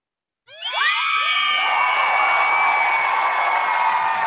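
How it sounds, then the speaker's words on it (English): An audience suddenly erupts after silence into loud, sustained cheering, with high excited shouts and whoops in a continuous wall of crowd noise and only faint clapping. "Getting drowned out by the applause"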